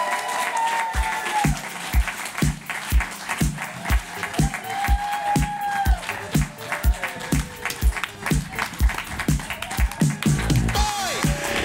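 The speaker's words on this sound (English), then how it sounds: "applause for our next team coming up. Let's hear it for Go Fish!" An audience at an improv comedy show claps for the team Go Fish, with loud, sustained applause that falls into a steady rhythmic beat of hands for several seconds.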